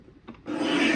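A paper trimmer blade slicing through a sheet of card print in one steady rasping stroke, starting softly with a brief scrape and then swelling into a continuous loud shearing rub to the end, with no talk.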